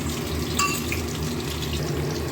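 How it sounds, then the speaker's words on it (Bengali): Paneer pieces sizzle as they are turned and fried until reddish-brown in hot oil, with a steady, close crackle throughout and a brief brighter clink partway in. "উল্টে পাল্টে লাল লাল করে পনিরগুলো একটু ভেজে নিচ্ছে"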